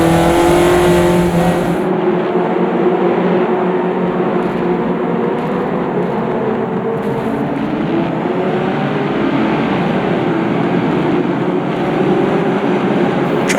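A Caterham race car lapping Cadwell Park in Automobilista 2, its engine droning loud and steady throughout, revving with small shifts in pitch and no talk over it.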